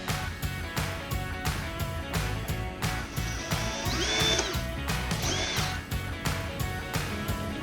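Power drill spinning in reverse to back out a broken bolt on a car or bike part, sounding in repeated short bursts with brief pauses and a whining pitch sweep midway, close and fairly loud.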